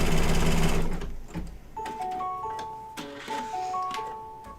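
An embroidery machine sewing small satin stitches opens with a loud, dense mechanical buzz that fades into lighter ticking, with a few short electronic beeps toward the end.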